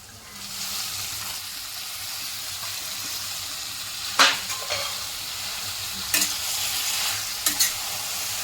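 Fenugreek leaves stir-fried in oil with onion and tomato, a constant soft sizzle close by broken by a few clinking scrapes of the spoon against the pan, no voices.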